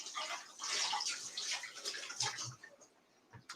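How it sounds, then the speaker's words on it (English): Hands being rinsed under a running tap in a tiny kitchen, a steady close splash of water with a few sharper drips near the end, no talking. "I gotta rinse my hands."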